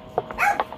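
A dog barks and yips in a quick burst of short, close, moderately loud sounds over a faint indoor background.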